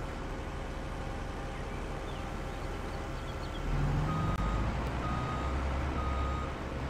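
A truck in Farming Simulator 22 sounds steady, repeating reversing beeps during forestry work, over a constant engine drone that grows louder partway through.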